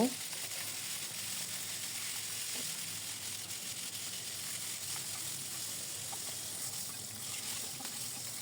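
Chicken pieces fry in oil with a faint, continuous low sizzle and occasional soft pops, fairly distant and even throughout.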